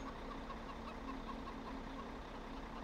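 Steady chicken clucking from a flock in the video game Farming Simulator 17, a continuous low murmur of soft clucks with a faint hum underneath.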